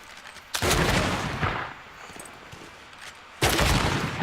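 A city being bombarded in Civilization 6 in two loud, abrupt blasts a few seconds apart, each a broad rumbling explosion with a decaying roar, separated by a lower rumble.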